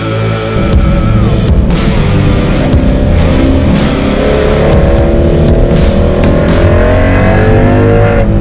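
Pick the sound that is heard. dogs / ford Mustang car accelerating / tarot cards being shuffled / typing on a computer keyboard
ford Mustang car accelerating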